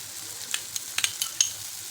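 Garlic paste frying with cooked tomato in a pan for a potato bhaji, a soft continuous sizzle punctuated by a few quick scraping stirs, close and unaccompanied by voices.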